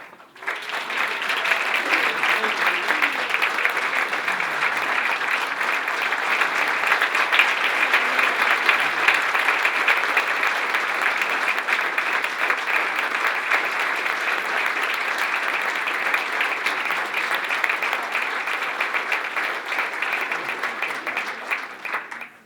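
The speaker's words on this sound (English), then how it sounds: "let's have a big round of applause for our honorees" Sustained applause from an audience at a corporate breakfast award ceremony for honorees, a steady dense clapping wash that runs loud and unbroken for over twenty seconds.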